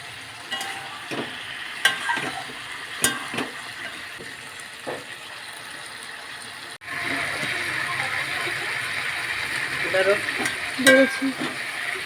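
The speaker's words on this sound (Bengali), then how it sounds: "ভালো করে কষাচ্ছি" Spices and tomato sauté in hot oil for a snakehead fish curry, with a steady sizzle and scattered scrapes and knocks of a spatula against the pan; the frying grows louder and denser partway through.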